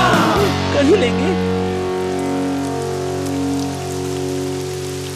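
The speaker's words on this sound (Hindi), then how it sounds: "मैं तो इस बारिश से तंग आ गया हूँ डिजी।" Steady, loud rain pours throughout, forming a dense continuous hiss, while cartoon music and a brief sliding tone play underneath near the start.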